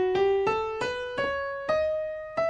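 Ascending melodic minor scale played as six separate plucked notes, each struck cleanly and decaying before the next, stepping upward at a moderate, even pace, close and alone.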